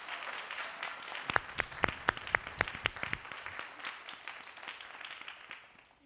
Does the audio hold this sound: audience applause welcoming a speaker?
yes